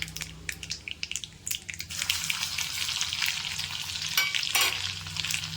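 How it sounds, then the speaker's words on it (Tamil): Crushed garlic cloves go into hot oil in a pan for a raw-banana thokku. Some light tapping and stirring comes first, then a sudden steady sizzle that stays loud and close, with brief bursts of sharper crackle. "பூண்டு வதங்கிக்கலாம்"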